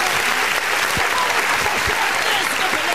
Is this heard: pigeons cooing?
no